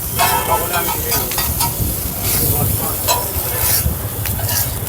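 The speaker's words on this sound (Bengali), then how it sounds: "চিকেন মানে এই দাদা ভাজছেন" Chicken sizzling and frying as it is stirred in a hot pan for Mughlai chowmein at a decades-old Kolkata street stall; loud, continuous frying with repeated scraping strokes close by, a faint voice in the background.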